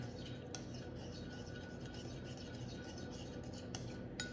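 A spoon stirring brookie batter in warm oil inside a bowl, a steady soft scraping with scattered light clinks of utensil on dish, quiet and close.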